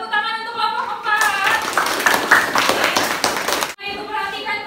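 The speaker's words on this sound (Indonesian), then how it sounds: "Tepuk tangan untuk kelompok 4." A classroom of students claps for a presenting group, a dense burst of rapid clapping that starts after a moment of quieter sound and then cuts off abruptly near the end.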